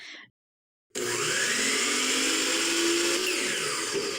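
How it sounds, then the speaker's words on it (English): Compound miter saw cutting a wood strip: after a brief sound and a short silence, the motor kicks in and a loud, steady whine holds to the end, close by. "measuring the length to trim that on the compound miter saw"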